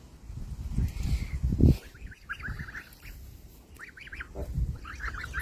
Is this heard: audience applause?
no